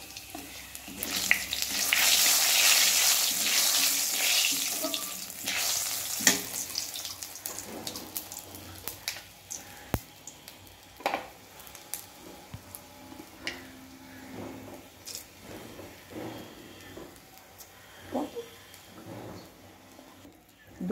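Dried red chillies, nigella seeds, panch phoron and cumin crackle in hot oil, a loud hiss at first settling into a lighter sizzle with scattered pops and clinks.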